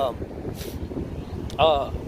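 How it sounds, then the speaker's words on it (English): Wind blowing outdoors buffets the microphone as a steady low rumble for the whole stretch, with a brief louder gust near the end. "it's pretty windy out here today"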